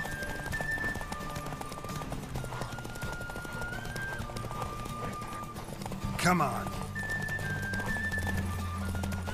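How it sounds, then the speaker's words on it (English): Rapid hoofbeats of a galloping horse in The Witcher 3 drum on under a man's speech, with a brief whinny cutting through midway while gear and wind sounds continue around it. "Don't spare the horse!"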